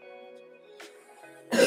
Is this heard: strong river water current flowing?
no